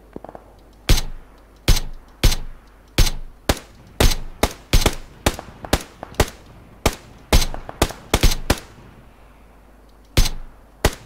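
Sharp gunshots ring out in an irregular rapid series, about seventeen loud cracks with short gaps, some doubled, like game gunfire in PUBG, with no talking.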